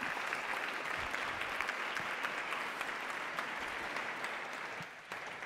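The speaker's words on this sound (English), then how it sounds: "you should give her a big round of applause" Audience applause at a global crop diversity summit session, steady, crisp clapping from a sizable crowd for several seconds at moderate distance, gently tapering near the end with no talk over it.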